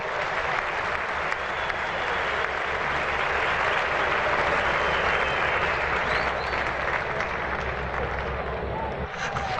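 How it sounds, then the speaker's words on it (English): A test-match cricket crowd in Gwalior applauds a beautiful on drive in a long, dense wave of clapping and cheering that stays loud and steady throughout. "Gwalior stand up and applaud"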